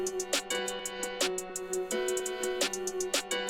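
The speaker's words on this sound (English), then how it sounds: "Added that snare." Snare drum hits crack through a looping hip-hop beat, landing as a few sharp, bright strikes over steady melodic layers, with no voices.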